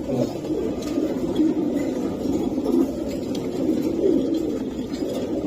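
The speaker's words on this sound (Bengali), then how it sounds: "জোড়ায় জোড়ায় কবুতর খুবই সুন্দর কবুতর" Racing pigeons from a club loft cooing together in a steady low murmur, several birds overlapping continuously at close range, with no talking.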